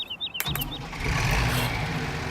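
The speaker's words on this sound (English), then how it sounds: "Start your engine, you damn fool." Tractor engine cranking and catching in Farming Simulator 17, a short starter burst followed by a steady, loud low rumble of the idling motor that fills the rest of the moment, with no talk.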